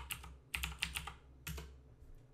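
A few quick keystrokes on a computer keyboard entering a number into a spreadsheet, soft and close, two short clusters of clicks in a quiet room.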